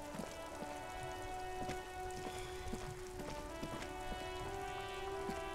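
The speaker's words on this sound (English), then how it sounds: "It's raining again." Rain in the video game Disco Elysium, a steady patter of raindrops on surfaces with scattered close drips, laid over a low sustained musical drone, quiet and continuous.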